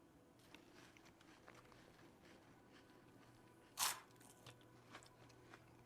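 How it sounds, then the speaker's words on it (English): In the video game Project Zomboid, a character eats a roast: a single short crunching bite stands out against faint background ambience, followed by a few softer clicks. "Let us eat the rest of our roast."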